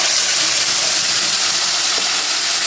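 Spice paste hitting a hot wok (kadai) after cumin tempering, a loud, dense steamy hiss and sizzle holding steady throughout, close and without talk.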